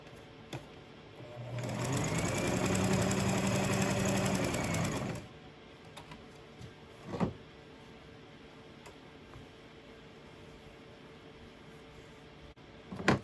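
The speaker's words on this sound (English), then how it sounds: "I'm going to turn this way, and I'm going to stitch a certain amount down" A sewing machine stitching quilting lines across a fleece rat cage mat, running steadily for about three seconds, followed by quiet clicks and handling of the fabric.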